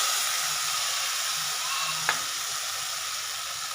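Ground mustard paste blended with green chillies hits hot spiced oil in a pan with a steady, close sizzle, with a few soft stirring scrapes and one sharp clink partway through.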